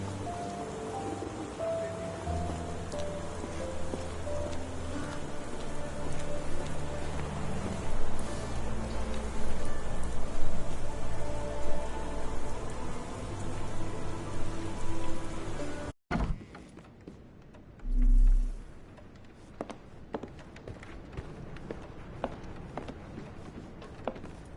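Rain falls steadily in the Sherlock Holmes The Awakened video game, a continuous soft patter under a low ambient music bed. It cuts off abruptly partway through, leaving a quieter background with a brief thump.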